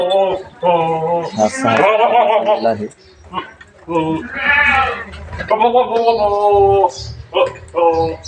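Beetal goats bleat in a goat shed, several loud wavering calls close by, overlapping with someone talking throughout.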